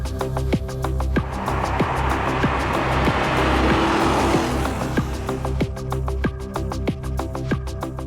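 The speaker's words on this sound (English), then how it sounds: "the soundtrack from that small displacement, high revving V8 is just fantastic" A 1974 Lamborghini Urraco's small-displacement, high-revving V8 with a replaced exhaust and rebuilt engine roars loudly and steadily up close, its pitch rising and falling through the revs with sharp crackling pops along the way.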